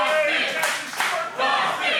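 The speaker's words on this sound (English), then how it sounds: "Chatsworth's making their feelings known about him by cheering for Dustin Daniels." A wrestling crowd at a Chatsworth independent show cheers and claps in a steady, broad roar, with surges of louder clapping that keep the noise full and continuous throughout.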